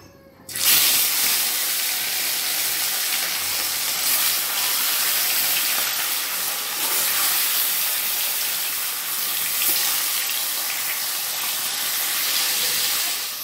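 Rohu fish frying in hot mustard oil in a wok, a loud, steady broadband sizzle that starts abruptly and holds evenly throughout, with no talking.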